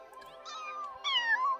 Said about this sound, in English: Only to be replaced with the faint meowing of kittens.